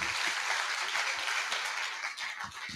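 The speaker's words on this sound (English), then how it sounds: "another big applause because today it's really your day" Audience applause at a graduation ceremony in Barcelona, a dense steady wash of many hands clapping that fills the space evenly and fades slightly toward the end.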